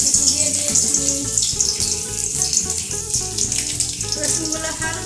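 Chopped garlic sizzling in hot oil in a pan, a bright, steady hiss that runs throughout with background music playing beneath it.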